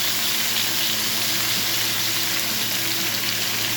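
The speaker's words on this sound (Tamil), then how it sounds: "இது எல்லாத்தையும் நம்ம ட்ரையாக வறுத்து எடுத்துடலாம்." Coconut and spices dry roasting in a pan, with a dense, even hiss and crackle that holds steady and loud throughout, no stirring clatter or voices standing out.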